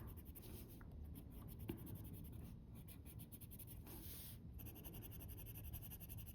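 A white colored pencil strokes over bright white paper during adult coloring, a soft continuous scratching with short gaps, faint and close, with no talking.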